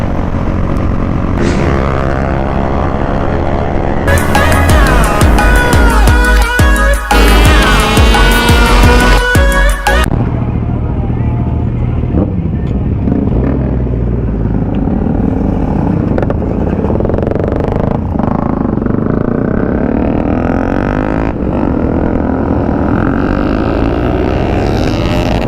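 A superbike ridden on the Yamuna Expressway, engine loud and close with rising and falling revs and a surge of harsh wind-blasted roar partway through, continuous throughout.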